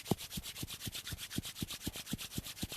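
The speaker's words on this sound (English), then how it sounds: "just rub your hands together so it's really nice and warm." Palms rubbing briskly together to warm them, a steady run of about a dozen soft, even swishes in quick rhythm, close and quiet with no talk.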